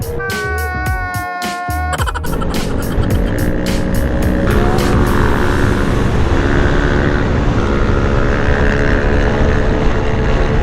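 A Yamaha Mio 125 motor scooter engine revs and drones steadily close by, loud and continuous after a brief musical jingle at the start.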